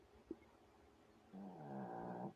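A cat snoring softly indoors, a faint click followed by a sustained, rough, low rumbling breath that swells and holds for about a second, close and quiet.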